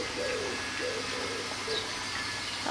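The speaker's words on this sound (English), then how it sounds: "There's the pigeon again." A pigeon cooing outdoors, a few soft low coos spread across a couple of seconds against steady background noise, moderately near.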